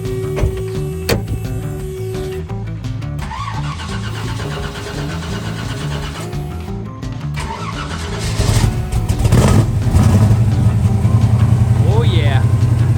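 A built 1979 Pontiac Firebird Trans Am cranks briefly, then fires up and settles into a loud, rumbling idle close by, with voices in the background.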